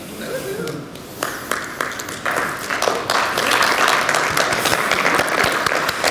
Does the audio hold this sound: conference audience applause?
yes